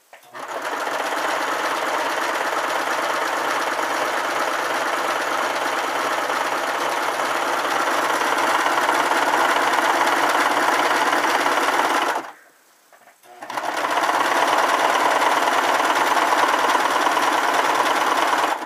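A sewing machine runs steadily with a fast mechanical whir while quilting, pausing briefly for about a second before starting up again at the same pace.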